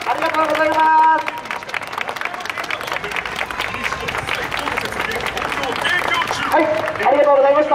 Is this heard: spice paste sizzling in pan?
no